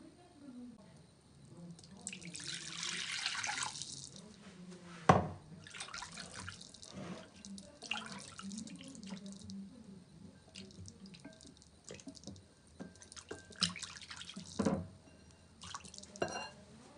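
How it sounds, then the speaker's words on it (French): Water poured and dripping into a pan with a roasting chicken, splashing and trickling in short bursts with a few clinks, fairly quiet, with a voice talking at times. "Et je vais mettre un petit peu d'eau ici."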